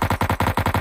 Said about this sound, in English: this is a San Andreas sound effect